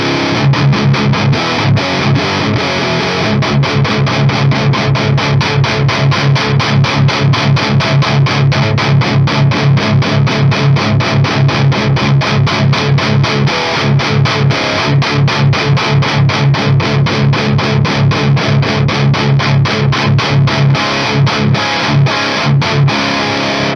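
A loud, distorted electric guitar through a KSR Orion 45 amp with the bright switch off chugs in a fast, steady rhythm, with a dark, muffled tone lacking top-end sparkle.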